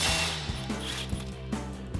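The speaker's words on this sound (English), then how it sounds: "Next, we can remove our lower shock mounting bolts with our 17mm socket." A ratchet fitted with a 17mm socket loosens the lower shock mounting bolts on a 2024-2025 Toyota Tacoma during a lift kit install, giving a run of close, evenly spaced clicks over a steady low hum.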